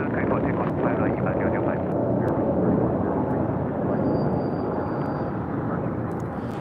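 An Airbus A320neo takes off at LAX, a loud sustained jet engine roar filling the scene, with faint radio chatter in the background.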